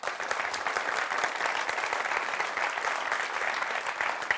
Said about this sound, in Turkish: Ben buna bir alkış istiyorum.